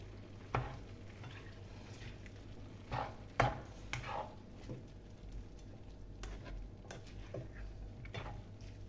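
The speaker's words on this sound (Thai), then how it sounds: "แล้วก็ผัดให้เข้ากัน ประมาณ 5 นาทีเพื่อให้ผักสุกนิดนึงนะครับ" Vegetables for a beef bolognese sauce sizzle softly in a pan while a utensil scrapes and taps against the metal in irregular strokes, quiet and close, without speech.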